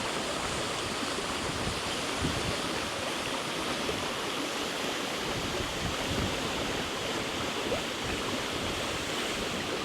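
A New Zealand creek and waterfall roar as a steady, dense rush of falling and flowing water, constant and fairly distant, with no voices.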